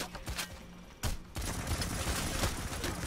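Rapid automatic gunfire from a sentry gun in the video game Payday: The Heist, dense continuous bursts with a brief gap, loud and busy throughout.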